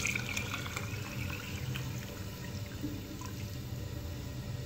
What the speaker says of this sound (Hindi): दाल ऐड करने के साथ हम पानी ऐड कर देंगे।